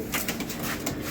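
A 2022-banded racing pigeon coos softly in a few short, breathy pulses close by, over a steady background hiss.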